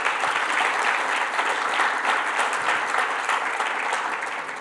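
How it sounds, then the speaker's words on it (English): An audience at a panel discussion on the future of truth gives a sustained round of applause to welcome the speakers. The clapping is full and close throughout and tapers only slightly at the end. "Please give them a big round of applause."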